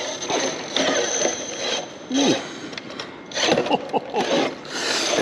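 An RC rock crawler hung up on its rear axle strains over a trail obstacle, with close, gritty motor whine, scraping and crunching in uneven surges.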